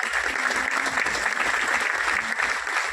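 A seated audience at an Ayurvedic product presentation claps loudly and steadily, a dense burst of applause lasting throughout.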